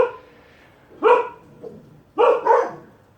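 Dogs barking outdoors near a home in winter, three sharp barks: one single bark, then a quick double bark, moderately close and standing out against a quiet background.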